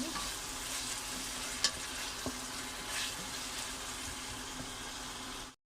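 Chopped tomato fries for chicken keema with peas, giving a steady close sizzle under occasional light scrapes and taps of the stirring spoon, then cutting off abruptly at the end.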